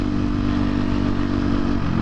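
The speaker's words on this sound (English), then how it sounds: "absolutely romping on a dirt bike with a loud exhaust" A 2023 KTM 250 XC-F dirt bike with a loud exhaust, a close, steady, heavy engine rumble running throughout with a low clattering edge, loud and without talk.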